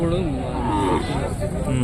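Native cattle let out a deep, drawn-out moo that fills the short moment, with people's voices mixed in close by.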